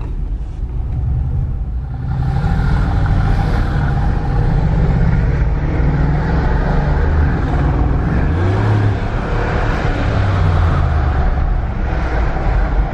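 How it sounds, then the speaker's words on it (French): A deep, steady V8 engine rumble fills the cabin of a Mercedes G-Class 4x4², droning continuously with low throbbing undertones as it drives. "Le V8 est bien présent, en tout cas."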